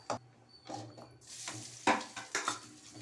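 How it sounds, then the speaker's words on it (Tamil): Cashews, raisins and nuts roast in ghee while a spoon scrapes and knocks the pan in short strokes over a quiet sizzle, close and soft, with no talking. "இதை நல்லா பொன்னிறமாக வறுத்து எடுத்துக்கலாம்."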